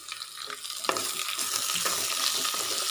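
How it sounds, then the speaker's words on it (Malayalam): Sliced onion sautéing in a pan for a Kerala-style okra and tomato curry, giving a steady close sizzle that builds slightly, with a few stirring scrapes and no talk. "സവാള ചേർത്ത് കൊടുത്തിട്ട് ഒന്ന് വഴറ്റിയെടുക്കാം കേട്ടോ"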